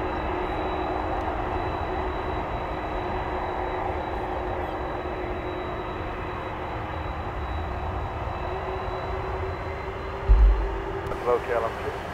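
A KLM airliner's engines roar steadily through a takeoff roll, a broad continuous rumble with a sustained tone, captured from inside the cockpit while a pilot speaks over the radio.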